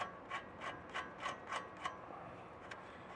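A 22 mm castle nut being run by hand onto the ball joint stud of a control arm on a lifted Nissan, giving about six evenly spaced, quiet metallic ratcheting clicks close by, then a last faint tick.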